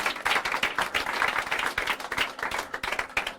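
A church congregation claps in steady, lively applause for the word of God, a close, even patter of many hands that keeps going throughout, with no talking over it.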